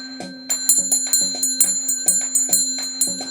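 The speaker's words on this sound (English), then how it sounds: "Let's ring the bell." A bell rings repeatedly in a steady rhythm, each bright metallic strike ringing on with sustained tones, fairly close and loud with no talking.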